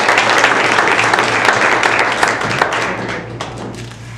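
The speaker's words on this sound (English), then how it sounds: "So we'll just give a round of applause and send our best." A room full of people applauds at a school district board meeting, a steady dense wash of clapping held at even loudness with a low hum underneath, tapering slightly toward the end.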